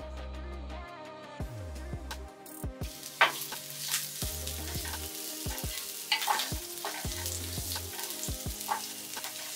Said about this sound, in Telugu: మీడియం సైజ్ 2 ఉల్లిపాయలు కట్ చేసి పెట్టుకున్నటువంటి వాటిని వేస్తున్నాను